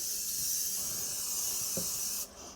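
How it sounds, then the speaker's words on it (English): Pam cooking spray is sprayed into a mixing bowl, a steady close hiss lasting about two seconds before cutting off sharply. "Spray your bowl good with Pam."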